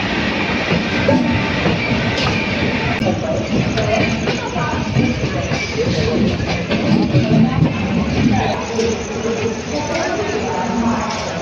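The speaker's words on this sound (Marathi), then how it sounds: "आता पुणे जंक्शनला आली आहे" The Mumbai–Kolhapur Mahalaxmi Express rumbles and clatters steadily at close range as it arrives at Pune Junction, wheels clacking on the rails, with voices talking over the continuous noise.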